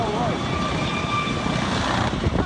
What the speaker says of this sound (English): A mechanical issue with the helicopter caused a temporary loss of control during a rescue mission.